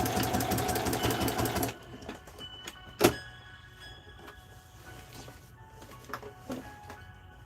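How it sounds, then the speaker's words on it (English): A sewing machine runs a short back stitch through denim and flannel for a pinafore made from upcycled men's jeans. A quick burst of fast, rattling stitching stops abruptly, followed by quiet clicks and a sharp knock. "Alright, move the pin, little back stitch, sew our little box."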